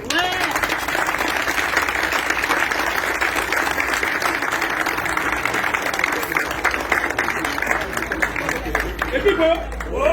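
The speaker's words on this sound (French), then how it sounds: "je souhaite qu'on acclame et que l'on sache qu'on est d'accord" A crowd at a union general assembly of the CNSS union coalition applauds and cheers, dense sustained clapping filling the room for the whole stretch, loud and close.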